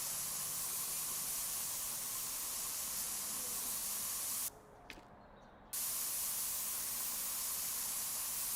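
Spray paint hissing in a car-painting simulator game: a loud, continuous aerosol spray that cuts out briefly near the middle, then resumes steadily with no voices.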